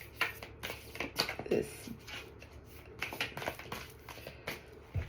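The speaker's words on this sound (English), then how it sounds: "do a little shuffle for these two." Rapid papery riffling of tarot cards being shuffled in several quick bursts, close by, with a voice speaking briefly over it.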